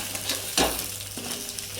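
Tomatoes sautéing in a pan with coconut masala for Chettinad fish kulambu, giving a steady close sizzle with a brief louder stir near the middle.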